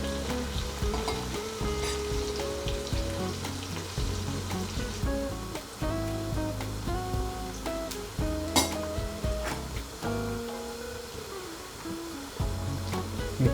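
Onions for a keema matar curry with minced chicken and peas fry in a pan with a constant, close sizzle and a few utensil clinks, over steady background music.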